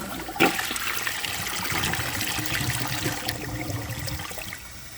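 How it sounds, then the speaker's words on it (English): A 2007 Crane Elite toilet flushes with a dish towel in the bowl: a sharp click, then a steady rushing, gurgling swirl of water that trickles down toward the end, close and with no voices. "That's not going to go anywhere, no matter how many times I flush it."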